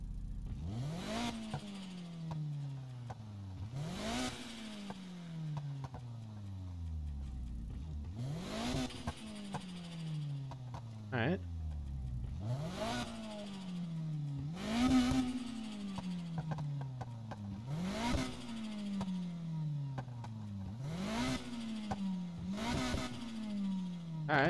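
A car engine in the Need for Speed Heat video game revs repeatedly, each burst rising sharply then falling away, in a steady cycle of about ten roaring pulls with crackling exhaust between.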